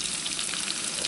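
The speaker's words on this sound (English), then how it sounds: "We're frying potatoes. Listen to that sound." Steady, close sizzling and crackling of potatoes frying in hot oil in a pan, continuous with no voices.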